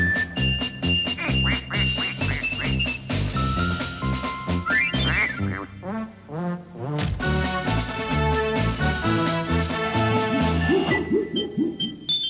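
Duck quacking in a 1992 Honda Civic television advert, repeated quacks over a busy musical backing that plays throughout.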